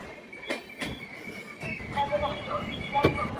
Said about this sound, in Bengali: আমাদের ট্রেন এই মুহূর্তে বারাণসী জংশনের উপর দিয়ে ক্রস করছে